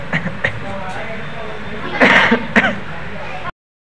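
A person sneezes or clears their throat indoors in a village home, with a couple of sharp, loud bursts close to the microphone amid speech and background noise.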